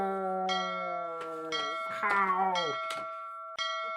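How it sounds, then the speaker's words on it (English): A bell rings out in repeated clear, sustained tones with long ringing overtones, several strikes in a row, loud and close with no talking over it. "And that fucking bell again"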